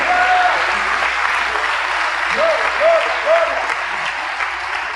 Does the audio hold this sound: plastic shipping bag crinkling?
no